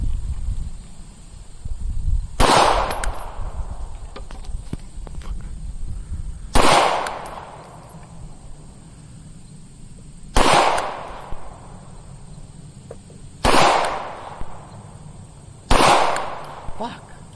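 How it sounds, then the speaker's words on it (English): Five sharp, loud gunshots from a Canik Rival pistol ring out at a shooting range, spaced a few seconds apart, each cracking and then decaying, with faint background voices between shots. "Shooting the Canik Rival."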